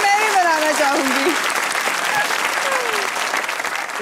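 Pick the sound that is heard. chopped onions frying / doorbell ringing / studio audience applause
studio audience applause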